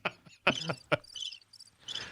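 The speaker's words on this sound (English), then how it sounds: "Crickets." A cricket chirping sound effect plays on a casual podcast: a few short, bright chirp bursts, close and fairly loud, with quiet gaps between them.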